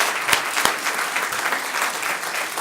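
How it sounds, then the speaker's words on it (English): An audience at an adoption day event applauding an adoptive family, steady full applause from many people with a couple of sharper close claps near the start, continuous throughout. "You deserve a massive round of applause, too."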